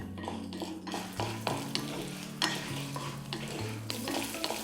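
Chillies frying with ginger, garlic and tamarind in a pan, a continuous close sizzle broken by regular scraping stirs and occasional metal knocks of the spoon, with no talk.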